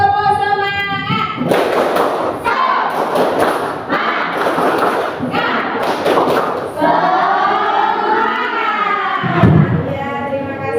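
A classroom group does a rhythmic spirit clap, bursts of loud, sharp hand claps in a patterned beat with pauses between sections, mixed with voices chanting along, close and energetic.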